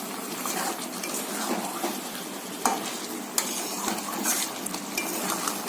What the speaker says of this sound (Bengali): চিকেন চলে গেল একদম কড়ায়। এই যে চলছে মাংস কড়া রান্না।